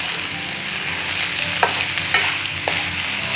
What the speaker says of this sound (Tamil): இது நல்லா சூடாகிற வரைக்கும் கலந்து எடுத்திங்கன்னாக்க கொத்தமல்லி சாதம் தயார்